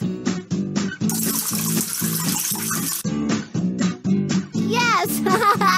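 A pink watering can showers vegetables in a children's garden-planting video game, a hissing spray rising over bouncy, rhythmic game music before the music carries on alone.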